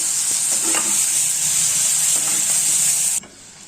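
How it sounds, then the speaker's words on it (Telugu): Dried red chilies and green chilies sauté in hot oil in a pan, a close steady sizzle with a few stirring scrapes, cutting off abruptly near the end. "ఒక 3 ఎండుమిర్చి, 2 పచ్చిమిర్చిని ఇలా తుంచి వేసుకోవాలి. ఇవి కూడా దీనితో పాటే మగ్గాలి."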